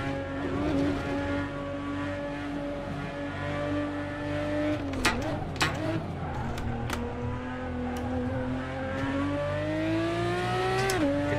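A Porsche GT4 race car's engine drones steadily at sustained revs in the Assetto Corsa racing game at Anderstorp, with pitch dips and shifts around mid-lap and brief sharp clicks, continuous and close throughout.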